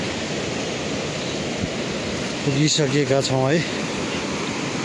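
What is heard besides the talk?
Budhi Gandaki river flowing below a suspension bridge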